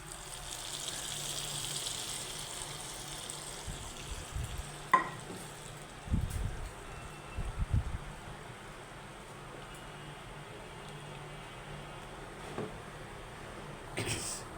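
Fried red garlic tipped into simmering dal bhuna sets off a few short, loud sizzling bursts midway, over a steady low kitchen hiss.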